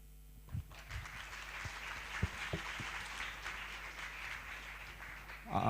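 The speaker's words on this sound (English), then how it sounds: "Please cheers them with big applaud." Audience at the ASIACRYPT 2016 cryptography conference applauding the reviewers, a faint, distant wash of clapping in a large hall with a few isolated louder claps early on.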